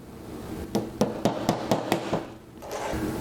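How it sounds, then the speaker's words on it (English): Tack hammer driving nails into hinge sockets on a sewing machine table for a Juki DDL-8700 industrial machine, six sharp evenly spaced taps close by, then a pause and a softer knock. "The tack hammer is really the easiest tool for it"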